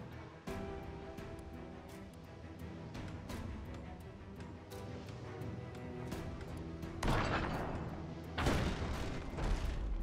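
Ship cannons auto-firing in the naval combat game Abandon Ship, a run of dull booms beneath a steady musical bed, with two louder, brighter crashing impacts near the end.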